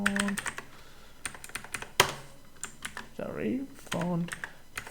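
Computer keyboard typing while writing HTML and CSS code: quick irregular clicks and taps close to the mic, with a voice speaking briefly partway through.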